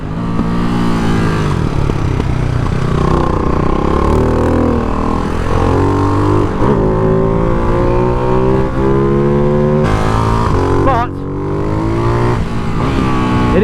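A Ducati Hypermotard 698 Mono single-cylinder motorcycle revs hard while being ridden, its engine note loud and close, climbing and falling through the gears with rising pitch sweeps and a brief dip near the end; no talk.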